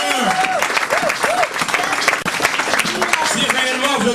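A congregation applauds during a revival church service, with dense, sustained clapping throughout and voices calling out above it.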